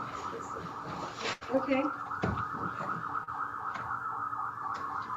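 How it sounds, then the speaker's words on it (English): Sirens wail outside during a send-off, heard faintly and steadily through the walls of a meeting room, with a brief spoken word and some room noise over them. "They're doing a send-off, so that's what all the sirens are going on out there."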